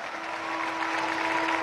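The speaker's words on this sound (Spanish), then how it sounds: "Fuerte el aplauso, que se vale." Crowd applause at a Guinness record attempt for the largest salsa casino rueda in Caracas, a dense, steady wash of clapping that holds evenly throughout with a faint sustained tone underneath.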